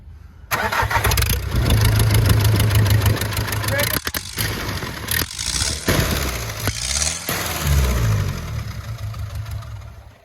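Nissan engine with a cracked exhaust manifold cranking and firing up, a loud close starter whirr catching into a rough, ticking idle with a couple of revs, with people talking over it.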